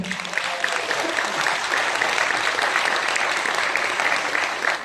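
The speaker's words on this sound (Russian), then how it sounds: "Аплодисменты нашим родителям." Audience applauding the parents at a grandson's graduation ceremony, a dense, steady wash of clapping from many hands that holds evenly for about five seconds with no talk over it.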